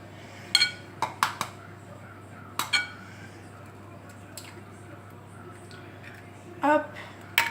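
Choux pastry dough being mixed in a bowl as the last egg goes in, with several sharp clinks of utensil against the bowl in separate bursts over a low steady background hum.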